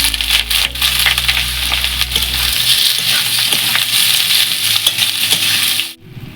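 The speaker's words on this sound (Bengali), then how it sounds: "তেলটা হয়ে গেছে, এর মধ্যে এবার কালো জিরেটা দিয়ে দিচ্ছি, দিয়ে এবার কুমড়োগুলো দিয়ে দিচ্ছি।" Pumpkin pieces and black cumin seeds hit hot oil in a pan, giving a steady loud sizzle and crackle with a few stirring scrapes and a brief clatter, then a sudden drop near the end.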